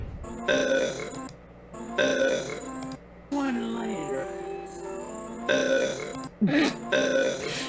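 Long, deep, drawn-out burps slowed down to a low, warbling groan, repeated several times with short pauses between them.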